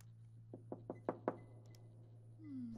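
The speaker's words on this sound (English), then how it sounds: "Stop banging on the door" Five evenly spaced knocks on a door in the game Becrowned, firm and close, rising slightly in force, over a steady low hum with a faint rising tone at the end.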